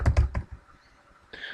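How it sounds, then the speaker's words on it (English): Typing on a computer keyboard: a few quick, close key clicks in a short burst, a pause, then a softer flurry of keystrokes in a quiet room. "I'm going to type in my name."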